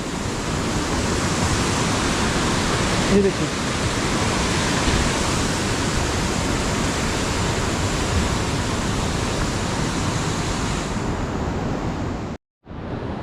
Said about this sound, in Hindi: ये बहुत मशहूर झरना है।